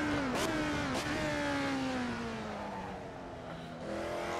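A retro Formula 1 car in a sim racing game revs high toward redline, its engine whine climbing and falling through gear changes with brief sharp blips, steady and close throughout without any talk.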